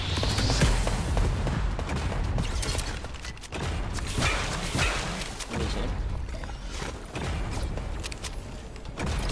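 Machine gun fire from Fortnite gameplay rattles on in dense bursts of rapid shots across several seconds, with short gaps, mechanical clatter and whooshing game noise in between. No one speaks.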